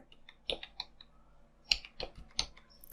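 Quiet, close typing on a computer keyboard with a few irregular key clicks and taps spread over a short pause-filled stretch.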